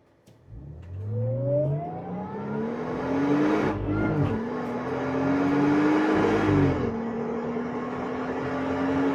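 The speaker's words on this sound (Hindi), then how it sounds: "अब ये एग्जॉस्ट की अच्छी एक आवाज आ रही है" A modified Jeep Wrangler JL on 40-inch tires makes an acceleration pull from a standstill, its exhaust note rising loud and close, dipping at a gear change, then climbing again and holding a steady roar.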